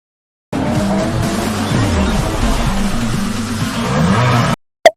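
A race car revs and roars in the Asphalt 9 Legends video game, a loud, steady engine drone with shifting pitch and tire squeal that runs about four seconds, then cuts off abruptly.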